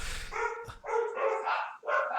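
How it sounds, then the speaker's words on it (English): Several dogs bark loudly and close in quick overlapping bursts, with a few yips, heard over a live audio feed on location in California. "Hey, dogs!"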